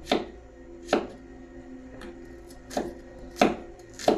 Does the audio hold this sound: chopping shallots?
yes